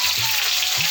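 A dense, steady sizzle of onions frying in a hot pan for a bottle gourd curry, with a couple of brief low scraping stirs.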